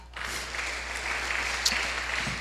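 A church congregation breaks into applause, a steady wash of many hands clapping that starts abruptly and holds evenly at moderate loudness.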